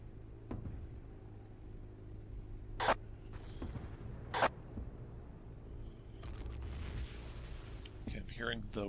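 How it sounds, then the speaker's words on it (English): Tank cannons fire during a tank duel in Battlefield 1942, with two sharp, distant booms a couple of seconds apart over engine rumble and battlefield noise, while someone talks. "Hearing the whistling sounds of some tank cannon. Looks like a tank duel."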